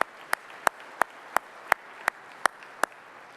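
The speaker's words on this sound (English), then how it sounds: "So I want to give them one more round of applause." Sharp, evenly spaced claps about three per second at an awards ceremony honoring event volunteers, distinct and moderately near over a quiet room, with no talking.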